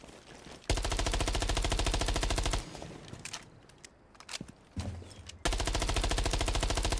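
Loud, rapid automatic gunfire from Valkyrie's low-recoil gun with an extended barrel in Rainbow Six Siege X, long sustained bursts broken by a short pause with quieter clicks and thuds before firing resumes.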